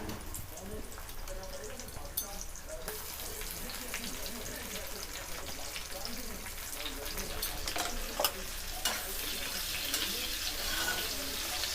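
Onion and tomato sizzle and fry in a pan in a steady, close crackle that lasts throughout, with occasional stirring scrapes and a voice speaking at times.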